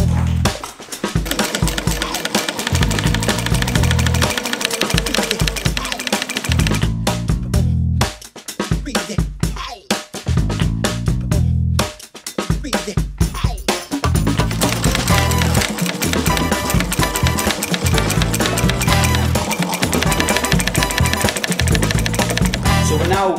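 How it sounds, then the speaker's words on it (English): A sewing machine stitches foam padding onto a new piece of leather for a B7 Audi RS4 seat, loud close bursts of rapid mechanical stitching that run for several seconds, stop briefly and start again. "Julian's going to sew the foam padding to the new piece of leather."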